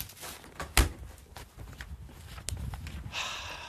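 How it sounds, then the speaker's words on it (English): A car door on a 1992 Toyota Corolla shuts with one solid thunk amid soft footsteps and shuffling nearby, followed by quieter scuffs and a faint hiss. "Oh, I better close the door here."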